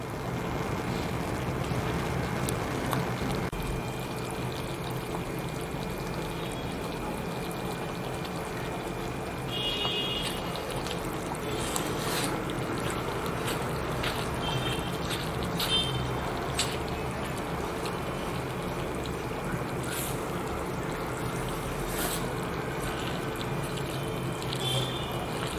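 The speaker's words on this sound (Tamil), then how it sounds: "கொஞ்சம் கொஞ்சமாக நெய் சேர்த்து கலந்துக்கிட்டே வரணும்" Ghee is added little by little and stirred into wheat halwa in a pan, giving a steady, soft sizzling and scraping wash that runs on with faint clinks and no speech.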